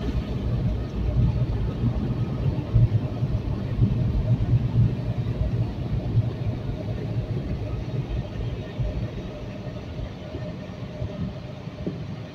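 Automatic car wash dryer blowing steady air over a car, a loud continuous low rumbling roar that stays even throughout, with no other distinct sounds.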